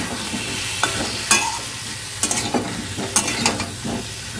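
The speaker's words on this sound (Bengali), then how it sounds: "এবার আমি কেটে রাখা আলু আর পেঁপেটাকে অ্যাড করছি।" Cut potatoes and papaya stirred into a sizzling chicken stew, steady frying hiss broken by several sharp spoon scrapes and clinks against the pot, no talking.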